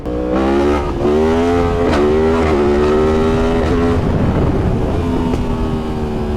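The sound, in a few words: Yamaha MT-10 motorcycle with full Akrapovic exhaust riding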